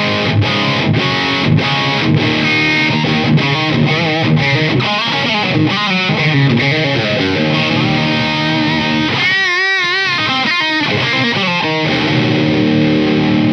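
Electric guitar played through a distortion pedal, loud and continuous, with fuzzy sustained chords and single-note lines and a brief bent or wavering passage near the end, with no talking.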